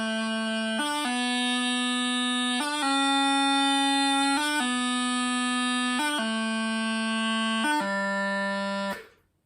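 Highland bagpipe playing a D gracenote crawl exercise: steady reedy drone under a sustained chanter tone that steps between low notes about every second or two, with brief grace-note blips at each change, close and unaccompanied, cutting off at the end.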